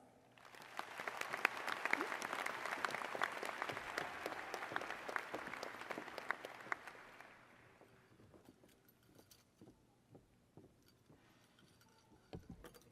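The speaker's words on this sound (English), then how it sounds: "Please give them another round of applause." A crowd at a high school graduation ceremony applauds the guests, clapping swelling to a full, lively roar before fading out around the eighth second into a few scattered, echoing claps in a large hall.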